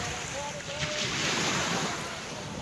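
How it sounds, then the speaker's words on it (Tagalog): Ocean waves washing on Pusyong beach, a steady broad rush of surf mixed with wind buffeting the microphone, loud and close throughout. "Ang napakagandang beach ng Pusyong"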